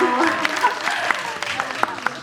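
Cinema audience at a film screening Q&A clapping briefly, a short light patter of applause with a voice speaking over it.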